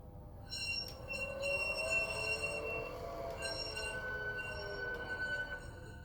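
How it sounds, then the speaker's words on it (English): Flange squeal from an LGB holiday model trolley driven by a Zimo sound decoder: a sustained, high-pitched metallic whine with shifting tones over a low rumble, steady and fairly quiet throughout. "F7 turns on the corner or flange squeal, and that only plays with movement"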